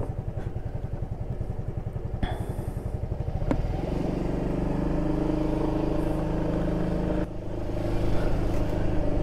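A 2023 Yamaha Freego scooter pulls away while carrying a water gallon, its engine putting at idle before swelling into a steady, louder acceleration drone, with a few thumps and rattles along the way and no speech.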